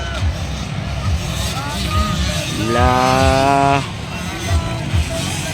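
65cc race motorcycles roar through a class final at a festival track in Claveria, Misamis Oriental, with a loud rising engine whine mid-clip over crowd noise and an announcer talking throughout.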